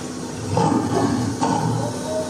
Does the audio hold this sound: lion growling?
yes